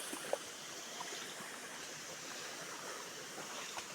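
A small water stream flows near a rural plantation during the rainy season, giving a soft, steady rushing wash with a few faint splashes, and no talking.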